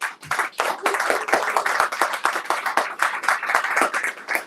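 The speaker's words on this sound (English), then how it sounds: "So everyone, please give a round of applause to Ben Caldwell." Audience at a book signing event applauding Ben Caldwell, a dense, sustained burst of many hands clapping indoors at fairly close range, steady for several seconds.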